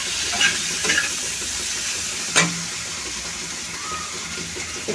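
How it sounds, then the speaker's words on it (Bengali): Turmeric and chili powder masala frying in a pan makes a steady sizzling hiss, with a few soft stirring scrapes and one sharp clack of a utensil against the pan. "ভালো করে মিশিয়ে এটা মশলাটা কষিয়ে নিচ্ছি"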